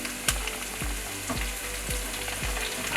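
Curry leaves fry in a pan with beef for a Kerala-style beef ularthiyathu. The oil sizzles continuously up close, and a spoon scrapes and stirs through it about twice a second, with no voices.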